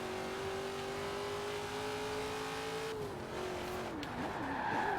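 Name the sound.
American muscle car driving in a racing video game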